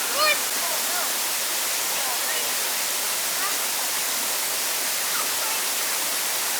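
A small mountain waterfall gives a steady, dense broadband rush that fills the whole stretch without a break, with faint voices now and then underneath.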